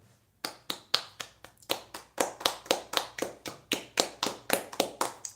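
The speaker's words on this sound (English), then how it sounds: "It's where you clap at the end, but you do like the little golf clap thing" A single person gives a slow golf clap at the end of a card game, about twenty close, crisp hand claps in a steady, slightly uneven rhythm.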